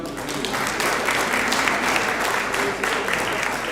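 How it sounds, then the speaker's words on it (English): Audience applause in a conference hall at an African curriculum association meeting in Nairobi, a steady, dense wash of many hands clapping, moderately loud and continuous throughout. "give that lady a serious clap"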